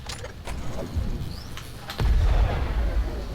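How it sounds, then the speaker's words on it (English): Missile attack in the Starlink video game, a series of sharp booms and blasts ending with a heavier low explosion rumble, moderately loud. "Ooh, missile attack."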